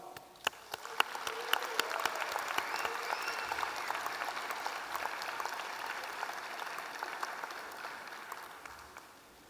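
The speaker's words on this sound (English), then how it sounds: "giving them a round of applause" Sustained applause for graduates' parents at a 2024 commencement ceremony, a broad wash of many hands clapping from a large audience that swells quickly, holds steady and begins to thin toward the end.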